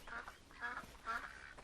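A duck quacks three times in quick succession, soft and somewhat distant, with a brief faint call trailing after and no voices.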